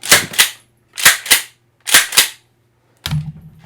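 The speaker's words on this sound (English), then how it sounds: "And then you have the racking of this." A T4E TX 68 paintball marker rifle, .68 caliber and unloaded, racked three times, each a quick pair of sharp mechanical clacks, followed by a duller closing clunk, close and loud with no talking.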